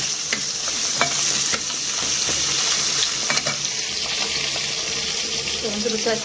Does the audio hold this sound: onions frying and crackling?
yes